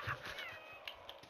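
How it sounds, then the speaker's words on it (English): A house cat meows close to the microphone, one sharp call at the start followed by quieter, higher mewing over faint room noise. "Don't you meow at me"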